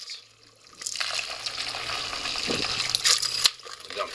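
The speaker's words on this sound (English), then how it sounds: "I'm just going to throw some water in both of them and mix like crazy" Water poured into Portland cement and RockStar Materials geopolymer mixes, a close splashing gush that builds over a few seconds and then cuts off abruptly, with no voices over it.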